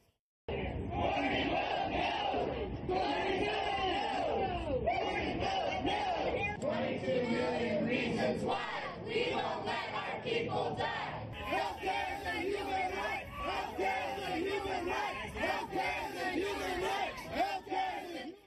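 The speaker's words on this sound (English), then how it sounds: "Republican senators are facing increasingly unruly crowds back home over health care" An unruly crowd of protesters at a town hall over health care with Republican senators, many voices shouting and yelling together continuously, loud and close, with no break in the noise.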